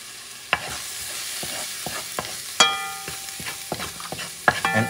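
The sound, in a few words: stirring rice mixture in a pan with annatto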